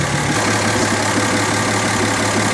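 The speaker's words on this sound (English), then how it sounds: "Engine is idling really steady." A car engine idles steadily after repairs for performance issues, a loud, constant low rumble with an even hum and faint irregular shake, heard close and alone without talk.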